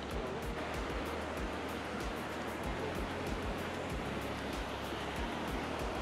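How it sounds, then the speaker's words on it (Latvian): Small waterfalls at Plitvice Lakes National Park in Croatia roar in a dense, continuous broadband rush, steady and close with no pauses, and no voices are heard. "Un ik pa laikam ir arī mazie ūdenskritumi."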